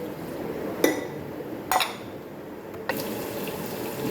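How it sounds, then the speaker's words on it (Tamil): Cooled milk poured into a milkshake in a home kitchen, a soft liquid pour with three sharp glassy clinks spread over a few seconds, quiet and close, without talking. "பால் ஆறிடுச்சு, அதையும் ஊற்றிக்கிறேன்."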